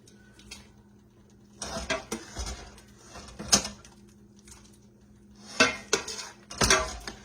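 A big pot is washed and handled, with bursts of clanking metal, scraping and splashing water separated by short pauses, up close and moderately loud.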